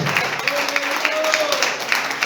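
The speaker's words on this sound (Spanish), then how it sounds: "Aplaudan que vive en esta noche." A church congregation applauds during a sermon, a full, even round of clapping with a few louder claps popping out and a voice rising briefly over the crowd.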